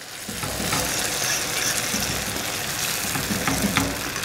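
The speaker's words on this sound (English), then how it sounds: "We're gonna put our eggs in here and we're just gonna give them a nice mix" Eggs fry and get stirred in a hot pan for a Greek-style scramble with tomato and pepper sauce, giving a continuous, close, even sizzle with faint scraping of the stirring and no voices.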